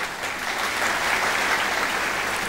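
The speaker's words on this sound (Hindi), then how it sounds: "आपकी भरपूर तालियों में air vice marshal Saeed Ansari साहब।" A stage show audience breaks into full, dense applause, a steady wash of many hands clapping together that stays loud and even throughout.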